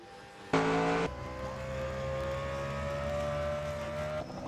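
Race cars in a racing video game accelerate with a high, rising engine whine. A sharp burst of engine sound opens the clip, followed by a sustained tone that climbs steadily.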